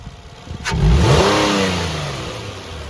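A car engine revs during a mass air flow sensor test: after a moment of idle, the revs climb sharply into a loud, near roar that peaks and then slowly falls back toward idle, with no talk.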